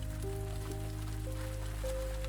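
Steady rain falls throughout, a dense continuous hiss spread evenly across the whole stretch, with a few faint sustained tones underneath and no voices.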